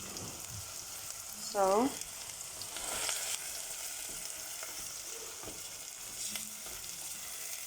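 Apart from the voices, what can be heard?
meat browning in a pan on a gas stove for lasagna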